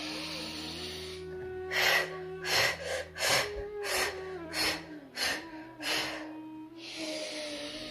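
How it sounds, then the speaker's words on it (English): Repeated forceful breaths during a breathing exercise: about seven sharp, rhythmic huffs in quick succession over a steady background hum, framed by longer, softer breathing at the start and end. "So you take a deep breath in."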